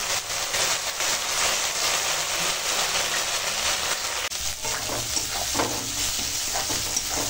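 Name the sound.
spice paste frying in pan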